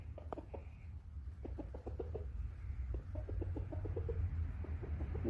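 Chickens cluck in soft, scattered bursts over a steady low rumble, sounding moderately close and fairly quiet.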